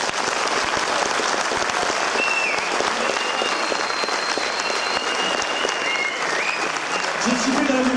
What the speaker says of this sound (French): je vous demande de les applaudir une dernière fois